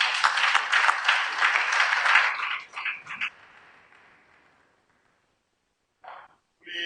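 An audience at a national environmental congress breaks into applause that starts loud and dense, thins out and fades to near silence, followed by a few brief bursts.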